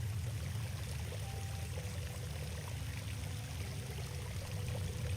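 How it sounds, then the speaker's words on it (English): Water flows continuously in a virtual plaza in EngageVR, spatial audio producing a steady, close stream and trickle with no voices. "Quite therapeutic actually listening to water sounds like this."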